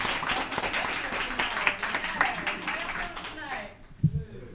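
A crowd at a live music venue claps in a brisk, moderate burst that thins out and stops near the end, with a voice talking over the clapping.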